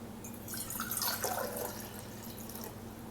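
Water is poured into a Magnum Steel 30 oz stainless tumbler, a soft splashing trickle that swells then fades over a few seconds against a steady low hum, with no talk.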